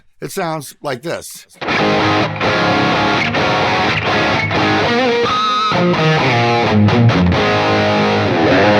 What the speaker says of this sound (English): I started with the preset that I built in my last video, which is a cool crunch and lead sound.